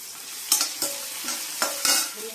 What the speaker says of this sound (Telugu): గ్రీన్ చిల్లీ వేగాలి, మూత పెట్టి వేయించుకోవాలి.